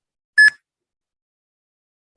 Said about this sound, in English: buzzer, please